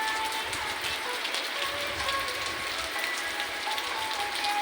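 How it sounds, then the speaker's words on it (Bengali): Steady rain falls outside a lodge in an outdoor setting, a dense, continuous hiss of drops on surfaces with a low rumble underneath, holding evenly throughout with no break. "বৃষ্টি হচ্ছে, এখানে বৃষ্টি হচ্ছে।"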